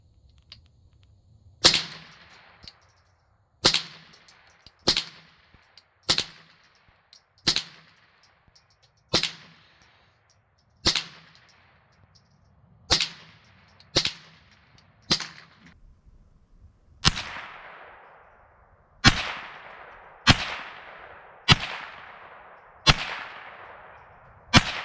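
A Savage 64 semi-auto rifle fires about fourteen sharp single shots at targets, each a loud crack with a short ringing decay, spaced a second or two apart at an uneven pace.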